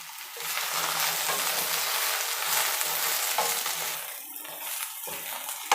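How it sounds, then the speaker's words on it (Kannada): Okra (ladies finger) fries in a pan with a steady, close sizzle, and near the end there are brief stirring scrapes and clinks. "ನೋಡಿ ಸ್ನೇಹಿತರೆ, ಈ ಥರ ಫ್ರೈ ಆಗಿದೆ ಬೆಂಡೆಕಾಯಿ."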